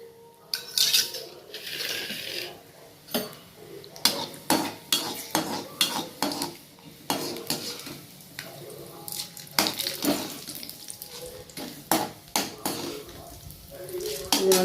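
Chana dal and urad dal fry in hot oil with mustard seeds as a metal spoon scrapes and clatters against the pan in repeated bursts, over a soft sizzle.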